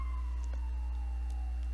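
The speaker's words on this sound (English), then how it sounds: "do you hear it? It's the ambulance. There it goes" An ambulance siren passes at a distance, faint and steady under a constant low hum, with its tone drifting slightly as it goes by.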